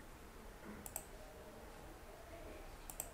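Computer mouse clicking while setting up a Shopify gift card: two quick double clicks, one early and one near the end, crisp and faint over a low room hiss.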